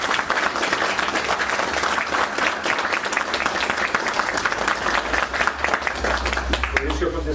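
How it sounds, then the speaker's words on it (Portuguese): A group at a study meeting breaks into steady, continuous applause, with a voice speaking over the clapping at times. "nós estamos de palmas por esse"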